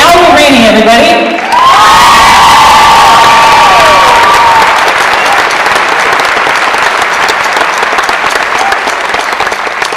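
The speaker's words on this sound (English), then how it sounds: "I can hear my neighbor in the audience yelling." Concert audience cheering, yelling and applauding loudly for a show, a dense sustained roar of crowd noise with whoops rising above it throughout.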